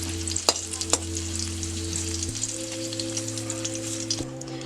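Potatoes frying in oil over a clay stove while pork curry is prepared, a steady close crackling sizzle with a low hum underneath and a few sharp pops and clinks of a utensil.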